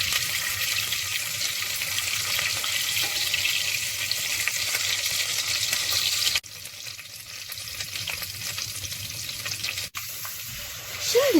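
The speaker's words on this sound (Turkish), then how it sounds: "1 yemek kaşığı salçamızı ekliyoruz ve karıştırıyoruz" Tomato paste being stirred into melted margarine in a pot for tarhana soup gives a steady, loud broadband sizzle, with a softer stretch after about six seconds and a brief scrape near the end.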